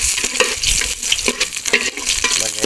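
Ginger hits a hot pan while adobo cooks, giving a steady loud sizzle and frying hiss with scraping stirs and light utensil clinks against the pan, close up and free of talk.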